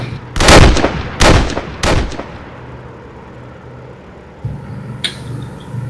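Rifle volley salute fired at an in-game memorial in WWII Online: three loud, close shots spaced about a second apart, each with a rumbling tail, followed by quieter game ambience and a faint distant report.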